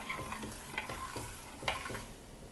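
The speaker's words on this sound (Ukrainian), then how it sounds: "Все це ставимо на вогонь і будемо варити його, періодично помішуючи до закипання." Repeated scraping strokes of a spoon stirring hot pepper sauce in a pot on the stove, over a soft bubbling sizzle, close and steady, with no talking.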